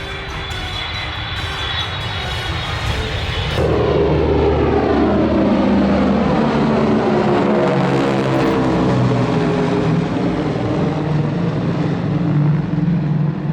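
A historic propeller aircraft comes down to land with limited control, its engine droning loud and close, with a sudden shift in tone partway through and a sweeping, changing pitch as it passes.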